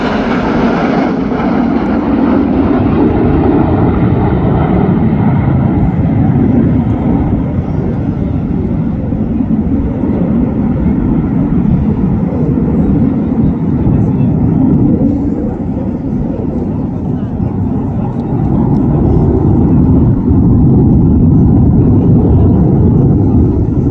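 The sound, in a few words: Red Arrows jets flying an aerobatic display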